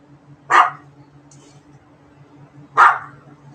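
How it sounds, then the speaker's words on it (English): A pet dog indoors lets out two sharp barks a couple of seconds apart over a low steady hum, aimed at the neighbors. "No barking at your neighbors."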